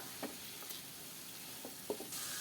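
Vegetables for rice sevai sautéing in a pan with turmeric and salt, a soft steady sizzle broken by a few faint scrapes of stirring, quiet and close, no voices.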